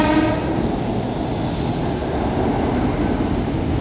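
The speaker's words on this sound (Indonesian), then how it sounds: "KRL dari arah Manggarai menuju ke stasiun Matraman Baru dan Jatinegara" A KRL commuter train near Manggarai, heading toward Matraman Baru and Jatinegara on new track, rumbles past close by with a steady, loud rolling roar and a brief horn-like tone at the start.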